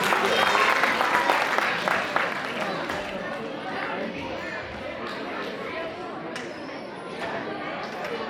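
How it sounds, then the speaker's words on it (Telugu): An audience claps to welcome performers of a Telugu school skit at an Ugadi celebration, applause loudest at first then thinning into scattered clapping under murmured chatter from the crowd. "గట్టిగా చప్పట్లు కొట్టి స్వాగతం పలకండి."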